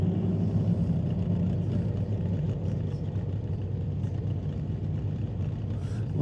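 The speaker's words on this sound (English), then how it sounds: "here you can hear it make the switch from alcohol to nitromethane" A drag racing car's engine roars continuously at an NHRA event as it switches from alcohol to nitromethane fuel, a dense, steady, loud mechanical rumble heard at some distance with crowd-like ambience.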